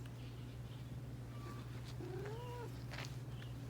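A cat gives a few soft, drawn-out meows inside a camper van, close by but quiet, over a steady low engine-like hum.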